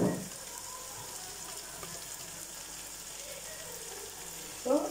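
Tomatoes crushed by hand sauté with ginger garlic for prawn biryani, a soft, even frying hiss that runs throughout, with a brief louder clatter at the start and end.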